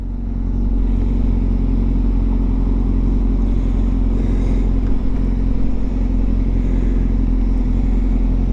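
A Yamaha R6 motorcycle passes on a road, a steady loud engine rumble that holds throughout with a slight swell midway, no talk over it.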